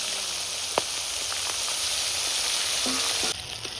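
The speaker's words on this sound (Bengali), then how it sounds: "সব মাছ ভাজা হয়ে গেল" Rupchanda fish frying crisp in hot oil in a pan, a loud, steady, close sizzle with a few spatula clicks, dropping slightly near the end, no voices.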